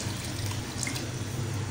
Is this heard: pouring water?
yes